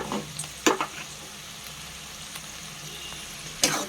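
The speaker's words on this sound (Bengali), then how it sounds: "এবার আমি আদা, রসুন, পেঁয়াজ বাটাটা অ্যাড করছি" Ginger, garlic and onion paste frying in a pan for vegetable pulao, with a steady soft sizzle and a few sharp scraping stirs near the start and end.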